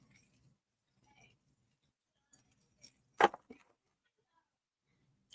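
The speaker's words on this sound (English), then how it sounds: "I gotta exchange over some keys." Car and truck keys being handed over give a quiet scatter of clinks and one sharp jingle of metal, then a couple of fainter taps, in an otherwise quiet room.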